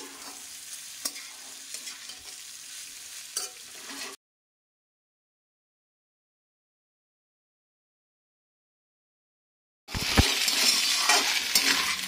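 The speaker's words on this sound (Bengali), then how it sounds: "ততটাই এবার ভেজে নিচ্ছি। একটু প্রয়োজন আমার পাস্তার, সেই পাস্তাটা মিশিয়ে দিলাম।" Pasta frying and being stirred in a pan, a close crackling sizzle with clinks of utensil against metal, cut by a long silent gap before the loud frying resumes.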